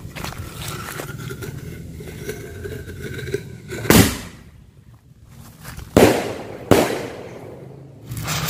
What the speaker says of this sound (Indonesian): Yang pertama ini kita nyalakan mercon bola launcher